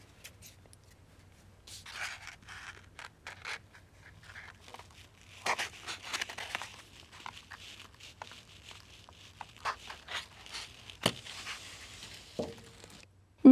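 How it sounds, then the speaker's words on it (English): Dry paper cartons are pierced on their bottoms with scissors, giving scattered small crinkling, scraping and poking sounds at close range in an otherwise quiet room, with a low steady hum underneath and no voices. "Now that the cartons are dry, I'll poke little holes in the bottom with scissors."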